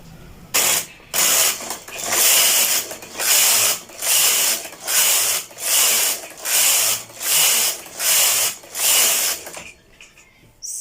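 A knitting machine's lace carriage is pushed back and forth across the bed, making a loud mechanical ratcheting whir in regular bursts, about ten even strokes with short pauses, then stopping.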